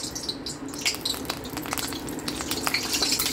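Oil poured into a heated pan while cooking aloo 65 with green chilli and curry leaves, giving a steady close sizzle and crackle with small clinks, no talk.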